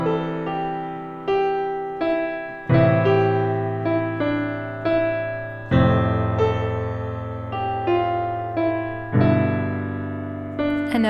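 Piano plays a simple melody over a chord progression, with clearly struck notes decaying between new chords. A dissonant note resolves at the end. The playing is close, steady and unaccompanied.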